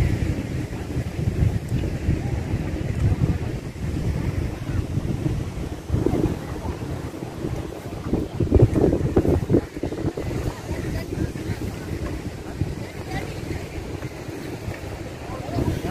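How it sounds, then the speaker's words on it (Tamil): Rough, churning sea waves crash at Golden Beach in Poovar, Kerala, where a river meets the ocean, a continuous rumbling surge heavily buffeted by wind on the microphone, with one louder swell midway. "கடல் பயங்கர கொந்தளிப்பாக இருக்குது ஃப்ரெண்ட்ஸ், வேறு லெவலில் இருக்குது ஃப்ரெண்ட்ஸ்."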